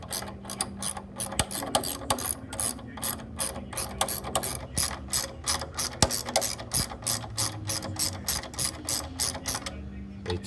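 Rapid ratcheting clicks from a 14 mm wrench turning counterclockwise to loosen a bicycle crank arm bolt, close and loud in steady repeated bursts over a low mechanical hum, with no talking.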